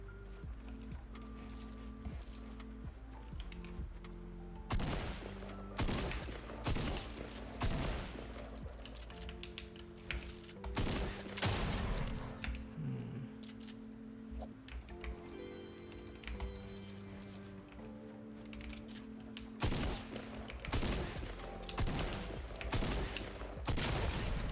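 Rapid SMG gunfire in a first-person shooter, dense bursts of close, loud shots repeating throughout amid keyboard clatter and game sounds.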